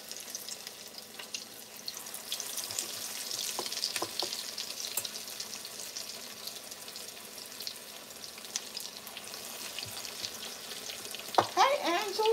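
Salmon patties frying in hot grease give a steady, fairly close sizzle and crackle, with occasional pops and clinks, and a brief clatter near the end.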